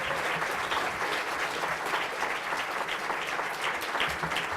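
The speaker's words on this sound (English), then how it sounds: "We've got to give them a round of applause." Sustained applause from a school event audience, a dense steady clatter of many hands clapping throughout with no pauses.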